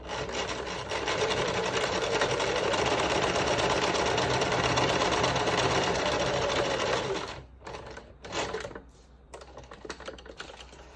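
A sewing machine runs steadily in a fast, continuous whir stitching fabric for several seconds, then stops, leaving a few faint handling clicks.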